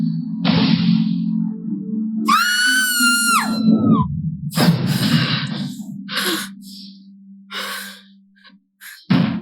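A girl screams in a high, pitch-sliding cry for about a second, set against a steady low hum, with breathy gasps and sighs before and after it.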